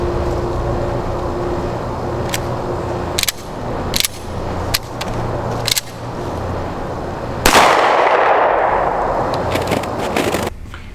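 A WW2-era Walther P-38 pistol fires several sharp, loud single gunshots at irregular intervals outdoors, with a louder boom and lingering rumble near the end.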